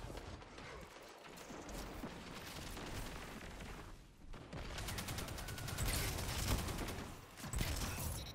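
Sunshot hand cannon firing in Destiny 2 online play, a dense run of sharp shots and bursting impacts layered over busy game noise, loud and close throughout.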